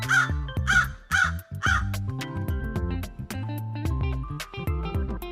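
A crow gives three loud, harsh caws in quick succession, followed by light background music with no further calls.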